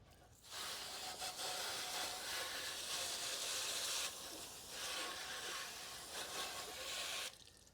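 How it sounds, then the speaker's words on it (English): Steady rush of water spraying hard over hydroponic equipment pieces during a rinse, continuous and close, with brief pauses near the start and around the middle. "I'm going to rinse these off."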